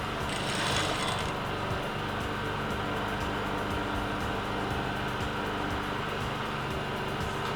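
A sewing machine stitches the side seams of a white garment, giving a steady mechanical whirr and rapid needle ticking that run continuously and close, with no talking.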